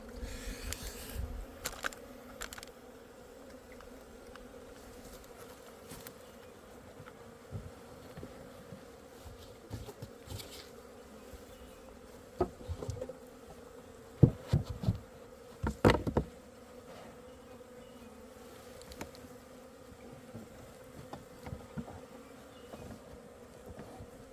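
Dense, continuous buzzing of a swarm of Asian honeybees fills the air at close range, with scattered louder bursts as individual bees pass near.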